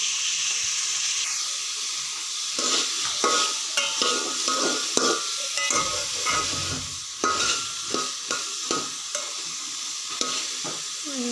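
Peas fry in a pan with a continuous sizzle, a spoon stirring through them in repeated scraping strokes that grow more rhythmic toward the end.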